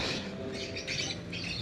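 Lovebirds squawk in a steady, busy chatter of harsh, close calls that barely let up, with a few bursts standing out above the rest.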